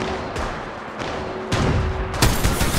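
Gunfire in Apex Legends Mobile, a mobile battle royale game, comes as rapid bursts of shots, loud and close, with a heavier barrage toward the end.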